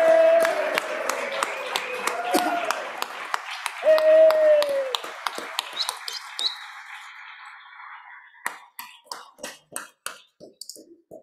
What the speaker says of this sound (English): And just if we give them a round of applause,